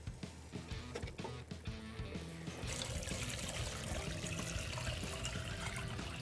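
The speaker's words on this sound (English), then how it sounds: "I'm going to add enough water just to cover the pork." Water pours steadily into a pot of pork with a continuous splashing rush, preceded by a few clinks and knocks.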